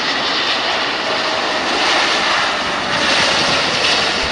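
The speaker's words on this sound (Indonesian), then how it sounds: "Ada dua kapal terbang." Loud, steady roar of an airplane engine close by, a continuous broadband drone with slight swells in intensity and no voices.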